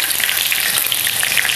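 Chicken leg pieces fry in oil with a loud, steady, close sizzle and crackle that runs unbroken.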